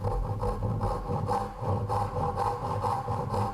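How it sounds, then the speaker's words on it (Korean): A hand saw rasps through wood while cutting the miter section of a tenon for a traditional Korean joinery joint, with steady back-and-forth strokes in an even rhythm, close and alone. "연기 부분에 톱질을 하여 가공을 하고 있습니다."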